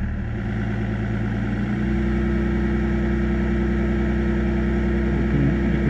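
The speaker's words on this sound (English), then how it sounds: "I'll blip the throttle now." A BMW E46 330Cd with the M57 diesel engine runs steadily in a close, loud, continuous drone, with its pitch and tone shifting slightly as the throttle is blipped, and no talking.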